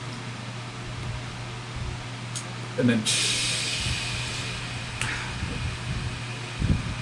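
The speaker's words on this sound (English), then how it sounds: "Oh, white noise is calming." Steady hiss of radio static runs throughout at moderate level, swelling into a brighter burst for a couple of seconds midway, with a voice speaking briefly over it and a low hum underneath.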